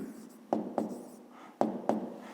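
A pen writes on paper, with four distinct strokes or taps in two pairs over a soft scratching background, close and quiet.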